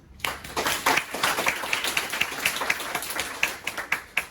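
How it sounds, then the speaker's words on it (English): A Toastmasters club meeting audience breaks into applause, crisp close claps that start abruptly and continue at a lively, somewhat uneven pace, with a few distinct louder claps standing out near the end. "please give them a round of applause"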